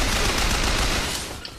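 Rapid gunfire from a first-person shooter game, Bioshock Infinite, fills the whole short moment as a dense, loud barrage that tapers slightly toward the end.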